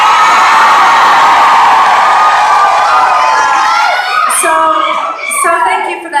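A large crowd cheers loudly at a live show, with whoops and shouts blending into a dense roar that thins toward the end into scattered individual yells and high-pitched whistles.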